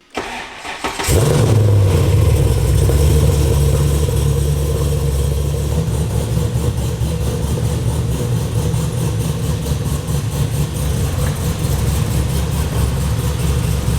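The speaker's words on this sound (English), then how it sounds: "Yep, that's an engine." A Mazda RX-7 FD engine cranks and catches, then settles into a loud, close, rough idle with a steady pulsing rumble that holds throughout.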